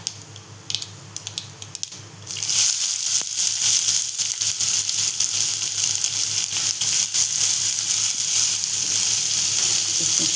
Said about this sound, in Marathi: आता आपण टाकतो जिरं टाकते. तर कांदा टाकूया.